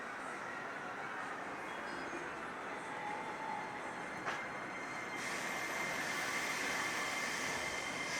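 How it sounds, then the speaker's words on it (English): A train pulls away through a Shibuya neighborhood in Tokyo, a steady, moderately distant rumble of rail cars that swells slightly near the end over street ambience, with no one talking. "GR train taking off."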